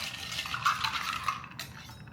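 A spoon clinks and swirls against a glass while stirring a cranberry and ginger holiday drink, light metallic taps close up over a soft background hum.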